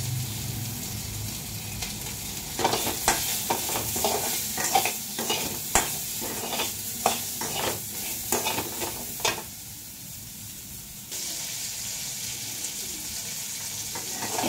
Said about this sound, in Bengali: এইখানে এবার পটলটা বেশ ভালো করে ভাজছি।